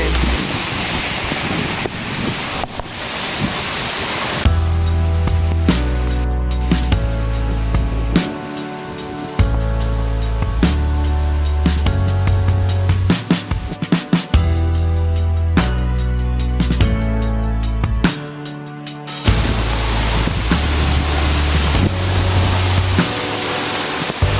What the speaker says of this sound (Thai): ตอนนี้เราอยู่กองน้ำตกเนาะทุกคนเนาะ